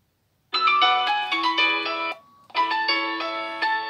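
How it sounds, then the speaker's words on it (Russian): A Nokia 6288 mobile phone plays a bright polyphonic ringtone melody, loud and clear, with a brief pause partway before the tune resumes, alone without talk. "И вот это посмотрим рингтоны."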